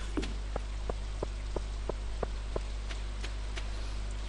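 Rain patters in the farming video game Stardew Valley as a soft, steady hiss with evenly spaced faint droplet ticks over a low constant hum.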